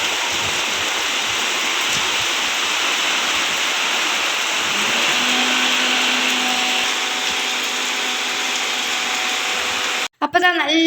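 A mixer grinder runs on roasted rice as a loud, continuous whirring roar that stays steady for about ten seconds and then cuts off abruptly near the end.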